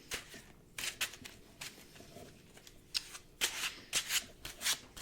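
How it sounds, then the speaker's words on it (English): A tarot deck riffled and shuffled by hand in repeated bursts of crisp card flicks, close and clear, with brief pauses between rounds. "I really love this deck. It's really smooth to shuffle."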